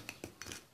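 A spoon clinks and scrapes against a bowl while mixing ingredients for a homemade deodorant mixture, producing a few quiet, close taps and brief stirring sounds spaced unevenly.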